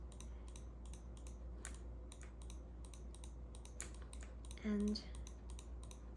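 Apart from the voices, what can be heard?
mouse clicking while working in Maya on a computer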